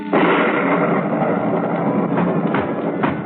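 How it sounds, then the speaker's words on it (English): A loud, sustained rumbling roar of thunder fills the whole clip, with a few sharper cracks rising near the end. "a terrific clap of thunder woke me up"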